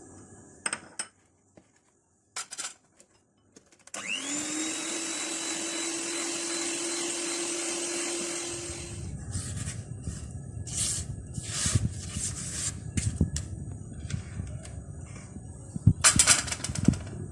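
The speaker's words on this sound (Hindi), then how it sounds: "दूसरा अंडा डालेंगे और दोबारा इसको मजीद बीट करेंगे।" An electric hand mixer whirs steadily as eggs are beaten into a spice cake batter, loud and continuous for several seconds before giving way to bowl clatter and scraping.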